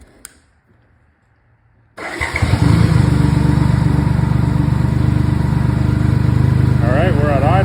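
A BMW K75 motorcycle engine starts after a near-silent pause and settles into a steady, loud idle following throttle synchronization, close by and continuous.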